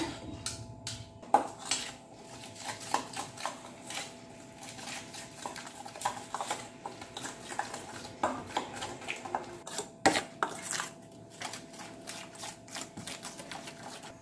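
Utensil clinking and scraping against a pan while sauce ingredients including corn syrup are stirred for Korean spicy chicken stir fry, with irregular metallic taps and clatters at close range, no talking.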